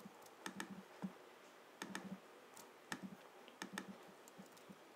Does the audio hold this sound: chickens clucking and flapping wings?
no